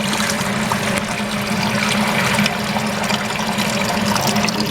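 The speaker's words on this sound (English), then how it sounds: "you need to put 3 quarts of water into your pressure canner if you are doing pints" Water pours steadily into a pressure canner for home canning ground beef, making a continuous rushing, splashing stream at close range with no talk over it.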